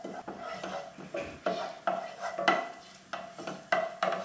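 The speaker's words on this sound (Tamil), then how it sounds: "இப்போ ஜீரகம் நல்லா பொரிஞ்சிடுச்சு." Cumin seeds crackling in hot oil in a pan, heard as a quiet string of short, irregular pops and clicks with light utensil scrapes.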